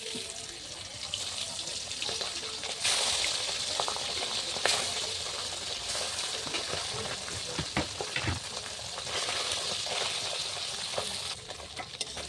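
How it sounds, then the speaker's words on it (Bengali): Pabda fish frying in a pan give a steady bubbling sizzle with scattered pops and scrapes, close and fairly loud throughout, no voices heard. "এবার আমি পাবদা মাছগুলো দিয়ে দেবো।"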